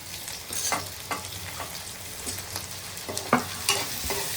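Tomatoes are added to onions frying in a pan for a broad bean and potato curry, giving a steady sizzle broken by repeated scraping, stirring clatters close by.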